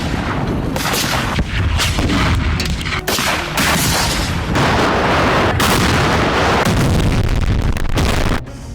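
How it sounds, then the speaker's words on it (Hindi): Heavy artillery bombardment in war footage from the Russia-Ukraine war: dense, continuous booms and gunfire crashing loud and close for nearly nine seconds, with no speech. "दोनों ओर से जबरदस्त बमबारी हो रही है।"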